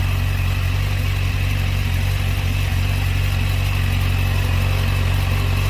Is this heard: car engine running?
yes